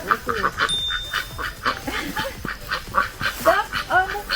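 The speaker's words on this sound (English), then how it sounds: "We're passing ducks." Ducks on a fruit farm in Westmoreland, Jamaica quack and honk in a busy, overlapping flock close by, the calls repeating in quick rhythmic bursts.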